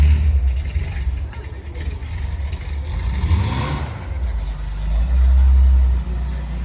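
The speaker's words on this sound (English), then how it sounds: "looks like that Porsche is taken off. Love the sound of that air-cooled goodness" An air-cooled Porsche race-prepped car pulling away at a grand opening car gathering, its engine note rising in a loud rev that swells and then fades, with people talking nearby.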